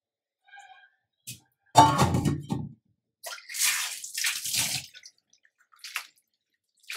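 A burst of water pours and splashes through a strainer for about a second, draining off cooked goat tripe, followed by a few softer trickling and draining sounds with brief pauses.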